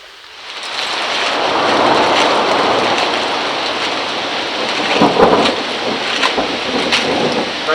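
Thunderstorm in a mountain canyon, with steady heavy rain hissing throughout and rolling thunder building in the distance, then louder cracks and rumbles near the end.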